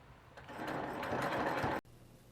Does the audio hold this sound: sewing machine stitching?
yes